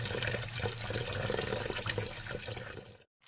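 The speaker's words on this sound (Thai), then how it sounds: "ต้องล้างไปเรื่อยๆนะคะ จนกว่าเมือกจะออกหมดนะคะ" Running water rinsing oyster mushrooms to wash off their slime, a steady splashing gush at moderate level that stops abruptly at the end, with no talking.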